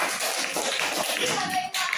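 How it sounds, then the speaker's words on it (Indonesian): A classroom of students applauds a presenting group, number four, during a school lesson: dense, continuous clapping from many hands, close and fairly loud, filling the full two seconds with a brief dip near the end and faint voices mixed beneath. "Tepuk tangan untuk kelompok 4."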